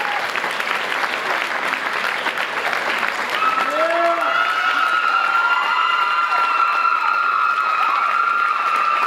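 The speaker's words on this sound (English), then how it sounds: "last round of applause for King Lee Kulo and Queen Ashley Bergstein." A crowd at a 2004 Southland homecoming pepfest coronation applauds loudly and continuously, with cheering, shouts and high whistles rising over the clapping.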